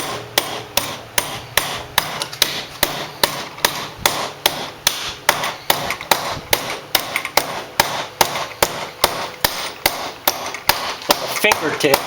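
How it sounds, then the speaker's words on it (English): A ball-peen hammer shapes a metal finger gauntlet plate, striking in a steady, rapid rhythm of close, sharp metallic taps over about a dozen seconds, with no voice. "start working it down with your ball-peen hammer"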